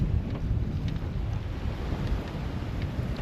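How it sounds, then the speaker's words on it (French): Steady wind roars across the microphone aboard a sailboat at sea in the cold Atlantic, a continuous broadband rush with low buffeting and no voices. "il y a du vent"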